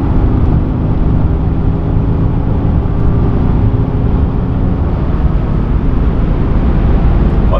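A Prior-Design Audi A8 under full throttle at high speed. A dense, steady roar of engine, road and wind noise fills the cabin, loud and unbroken throughout.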